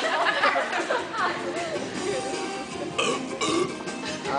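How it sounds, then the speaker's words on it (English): A contestant lets out a weak burp during a burping contest, with chatter and voices around it; the sound is rough and sustained across the few seconds, moderately loud amid the crowd noise. "That is a lame burp."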